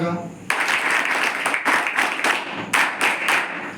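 Audience at a tribal hostel in Gopal Nagar, Amravati breaks into clapping after a short lead-in of speech, with steady, dense applause and a few louder surges, fairly close and loud.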